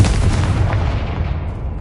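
Confringo fire spell explosion from the game Hogwarts Legacy, a loud, sustained booming blast with a rumbling tail that gradually fades over about two seconds, with no speech.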